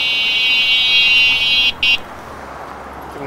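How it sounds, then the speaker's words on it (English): An electric bike's loud alarm emits a piercing, steady electronic tone close up, briefly cutting out near the end, over street and traffic noise on a Toronto ride. "This alarm is nice and loud."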